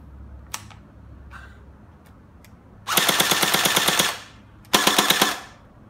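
An RX AKM47 toy blaster fires on full auto in two loud rattling bursts of rapid, evenly spaced shots, each about a second long, close up, preceded by a few faint clicks.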